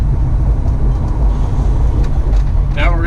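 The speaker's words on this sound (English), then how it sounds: "You can hear that 383 just a thumping." A 1969 Plymouth Road Runner's 383 V8 rumbles with a loud, deep, continuous low-end thump outdoors, and a brief voice is heard near the end.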